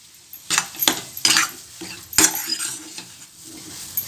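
A spoon stirs besan laddu mixture with milk in a pan, scraping and clinking against the metal in a run of close, irregular strokes with brief pauses, no talking.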